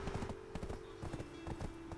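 A horse's hooves clip-clop in the Black Desert game, a steady, fairly close rhythm of hoofbeats over a constant low tonal hum.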